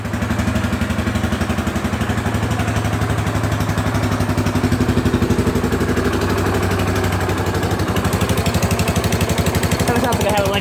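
A small engine idles steadily up close, with a rapid ticking, puffing rhythm like an exhaust leak running under the low rumble throughout.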